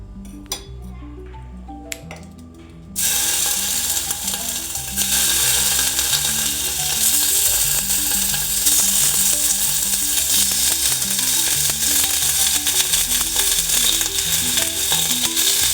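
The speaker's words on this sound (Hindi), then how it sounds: "let's fry the paneer" Paneer hits a pan and breaks into loud, dense sizzling after a quiet start, with a steady crackle and faint metallic clinks close by, continuing without pause.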